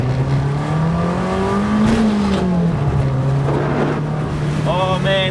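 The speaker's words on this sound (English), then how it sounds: "It's literally just feathering the throttle to try and get around these corners without too much understeer" A race car engine hums at a steady drone as the throttle is feathered on a slippery track, pitch rising slightly then easing, with a voice talking over it.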